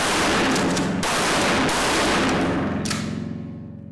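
A pump-action shotgun fires several heavy blasts in quick succession, each with a loud boom and rolling echo, the last one decaying away at the end.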